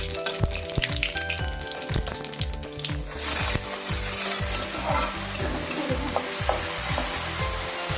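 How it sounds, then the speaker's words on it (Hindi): Sliced onions fry in hot oil with a bay leaf and cumin seeds: a loud, close, crackling sizzle, marked at first by rhythmic scraping of a spoon stirring through the pan. "पियाजटा को टिके लाल होगा पर्यंत आम भाजवा"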